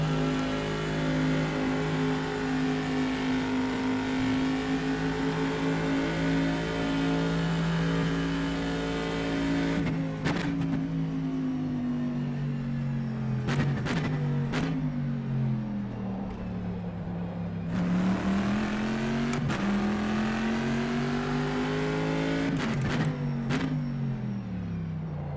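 A Corvette race car in rFactor 2 holds a loud, steady engine drone that rises and falls through gear shifts and revs, with sharp downshift blips partway through.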